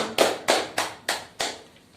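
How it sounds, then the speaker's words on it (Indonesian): Classroom clapping for a classmate named Yoni: five slow, evenly spaced, fairly loud group claps in a rhythmic pattern, each sharp onset fading quickly, with no talking. "tepuk tangan untuk teman kita Yoni"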